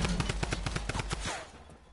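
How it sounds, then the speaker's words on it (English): Rapid automatic gunfire in a PS4 video game, a fast regular burst of about a dozen sharp loud shots that cuts off and leaves a fading echo tail. "Whoa, I'm getting shot at"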